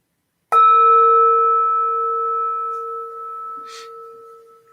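A meditation bell is struck once, giving a clear sustained ring with a long, slowly fading tone that carries on for several seconds, alone with no talking.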